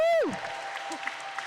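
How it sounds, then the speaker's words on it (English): Both team benches applaud at the final whistle of a roller derby game between Dublin Roller Derby B and Low Rolling Deuces. A short falling tone is followed by brief, faint, scattered clapping. "massive applause from both benches as the final whistle goes in this first game of the day"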